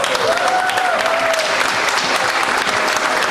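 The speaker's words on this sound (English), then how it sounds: "please give them a warm round of applause to make them feel welcome" An audience at a multicultural refugee week festival applauds steadily and loudly, welcoming a fashion parade. A faint voice or whistle-like tone rises briefly near the start.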